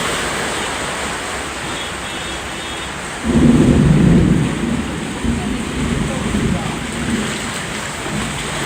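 A Shanghai thunderstorm with heavy rain hisses steadily as a loud rolling thunder swell rises midway and fades into a lingering rumble under the downpour.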